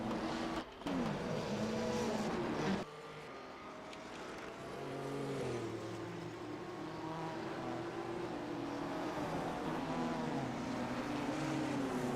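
A 1958 Ferrari Formula 1 car in a racing game roars loud and close, its engine note rising and falling through gear changes, with other cars' engines droning behind it.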